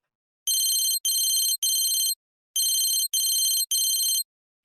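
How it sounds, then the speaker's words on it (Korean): A mobile phone ringtone rings loudly from a pocket, bright electronic tones in two sets of three evenly spaced bursts separated by a short pause, clear and close with no talking. "미래의 호주머니에서 휴대전화 소리가 크게 울렸다."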